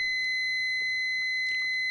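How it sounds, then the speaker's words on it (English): A multimeter's continuity beeper sounding while an automotive fuse is tested, a steady, unbroken high-pitched tone that lasts the whole moment, with no talk. "So if you're testing a fuse with this meter and it beeps"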